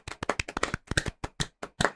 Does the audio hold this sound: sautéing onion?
no